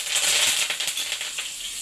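Onions, green chillies and a few curry leaves fry in a little oil, a close, bright sizzle with crackling pops that rises at first, then settles into a steady hiss with no talk.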